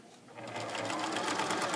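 A sewing machine hums steadily while stitching through fabric, a close, continuous motor whir with a fast rhythmic needle chatter that grows slightly louder after the first half second.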